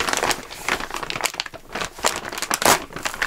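An Amazon envelope package is handled and torn open up close, with loud crinkling and crumpling of plastic and paper in quick, irregular bursts and no voices.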